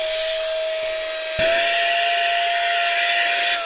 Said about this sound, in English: it definitely does have some suction power here